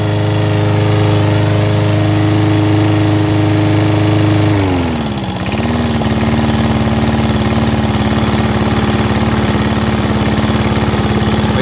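Wolf 46 cm lawn mower with a Tecumseh engine running close by, a loud steady engine hum whose pitch dips and falls partway through, then settles into a lower, even idle.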